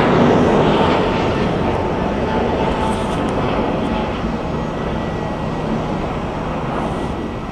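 Loud, continuous broadband roar of an airplane at an international airport in Germany, heard close and steady throughout, fading slightly toward the end.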